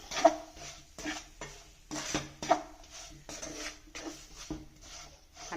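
Ragi flour and semolina are stirred and roasted together in a pan, giving a series of close, rhythmic scraping strokes with light clinks at a steady pace.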